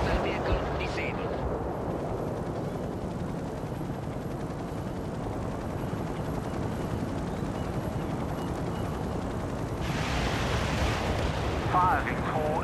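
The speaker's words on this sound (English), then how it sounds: "Commence artillery strike. We can start a heavy barrage." A heavy artillery barrage in the real-time strategy game World in Conflict: dense, rolling explosions and rumbling blasts form a continuous loud roar, with radio-style voices over the top.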